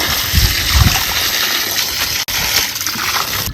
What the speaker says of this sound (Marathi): आता ह्या टोपल्यातच आपल्याला ठेवायची भाजी दोन पाण्याने धुवून घ्यायची